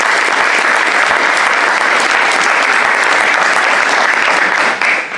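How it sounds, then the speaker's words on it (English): A board meeting audience bursts into loud, dense applause, many hands clapping together in a sustained roar that holds strong for several seconds and tapers off at the very end. "if we can give just a round of applause, that'd be great"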